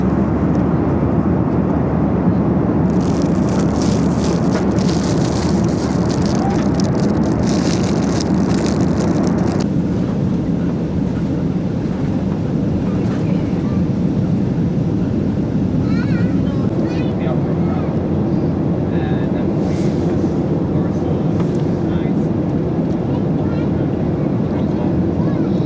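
Steady loud roar of an airliner cabin during landing on a London-bound flight, constant engine and airflow noise throughout with wind rumble and a shift in tone partway.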